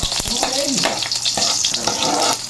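Garlic and onion sizzle steadily in a hot pan while being sautéed, a loud continuous frying hiss with the occasional scrape of stirring.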